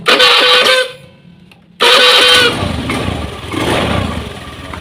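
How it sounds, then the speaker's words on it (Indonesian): A Honda Scoopy motor scooter in a workshop cranks on its electric starter, catches and runs, with a loud engine roar that dips briefly and then picks up again to a steady idle. "Kita hidupkan starternya."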